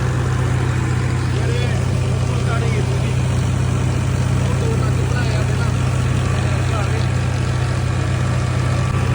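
A tractor engine runs steadily at a rural grain market during wheat distribution, giving a loud, continuous low rumbling drone with unbroken mechanical noise throughout and no clear pauses.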